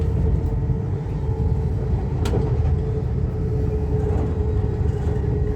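A train pulling into Grantham station, heard from on board as a steady, loud low rumble of wheels and running gear with a faint tonal whine, no talk.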